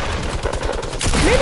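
Rapid, evenly spaced minigun fire in the Fortnite battle royale game, loud and close, a rattling stream of shots running for about a second before giving way to a rising tone.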